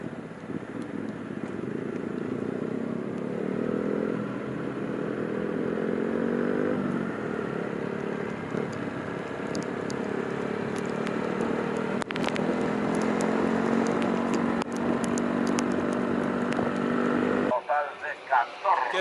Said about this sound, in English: Sounds like Moto 3's out for practice.